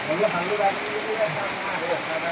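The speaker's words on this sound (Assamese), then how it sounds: "বৰষুণ এতিয়ালৈকে দিয়ে আছে" Steady rain patters down on a surface, a continuous soft hiss with scattered drops and faint voices underneath.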